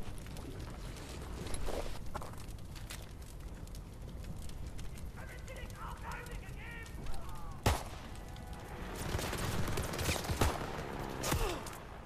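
Scattered gunfire in Call of Duty: WWII, several sharp bursts of shots landing amid clattering and moving gear during an ambush, some close and loud, with voices talking in between.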